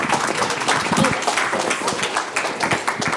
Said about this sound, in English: And another round of applause for our amazing panel.